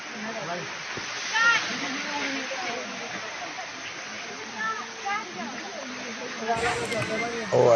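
Waterfall at Padhan Path in Deogarh, a steady rush of falling water under lively chatter from a picnic crowd, with occasional louder splashes and voices throughout.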